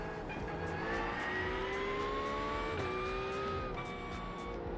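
A GT3 race car engine in the iRacing sim at Brands Hatch, with steady tonal engine harmonics that climb through the gears, one dip and recovery around the shift, and continuous loud whine throughout.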